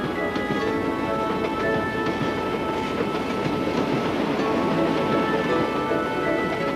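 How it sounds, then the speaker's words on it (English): A short mountain train of three cars and a caboose near Mount Hood, Oregon, rumbles steadily along the tracks with a continuous clattering roll, fairly close and sustained. "Here's a train that's much shorter. It's only 3 cars and a caboose. It travels out Mount Hood, which is a mountain in the state of Oregon."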